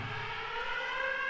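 Steady civil-defense-style siren wailing inside an abandoned prison, a sustained tonal drone with layered harmonics holding at an even, moderate level throughout.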